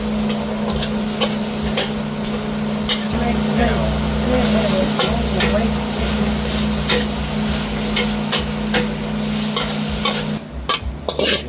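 Spicy eel stir-fried in a wok at a roadside eatery in Ayutthaya, with continuous loud sizzling and scraping spatula strokes over a steady background hum, voices talking along the way.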